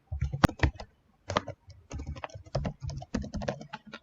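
Keys on a computer keyboard are typed in irregular bursts of clicks while text is entered in PowerPoint, close and fairly quiet, with short pauses between runs and no talking.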